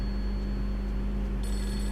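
Telephone in the Fatal Frame 3 video game rings with a steady electronic trill over a constant low hum, loud and unbroken across the whole stretch, with no talking.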